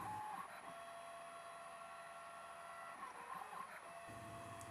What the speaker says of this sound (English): The spindle is turning at around 1000 RPM.